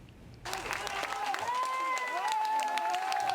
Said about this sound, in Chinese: 香港《苹果日报》的员工为最后一份报纸出刊欢呼